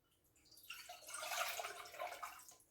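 Water poured from a measured 2.5-cup amount into a cooking pot for cedar tea, a soft splashing rush that builds and holds steady for a couple of seconds, with no talking.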